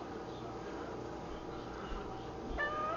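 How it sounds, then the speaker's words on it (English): A cat inside a box gives a short meow near the end, faint and close over a low background hum. "I got a cat in a box"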